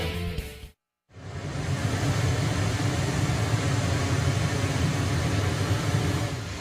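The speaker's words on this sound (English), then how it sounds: "pink noise through the PA, which is basically random signal that is equal energy at all frequencies" Pink noise pours steadily from a concert PA system, a dense, even hiss that fills the room at constant loudness after a brief moment of silence near the start.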